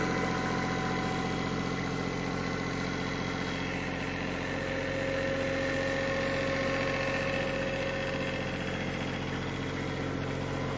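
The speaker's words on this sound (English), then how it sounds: "This is a Kioti Ck2620 with its backhoe that goes with it." Kioti CK2620 compact tractor with its backhoe attachment, the diesel engine idling close by in a steady, even drone that holds unchanged for the whole stretch.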